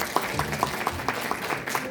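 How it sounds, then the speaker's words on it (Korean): An audience at a lawmaker's legislative report meeting in Daejeon's Yuseong district claps to welcome a comedian host, a moderate, fairly even rhythm of claps heard from within the hall. "우리 이경래 우리 큰 박수 부탁드리겠습니다"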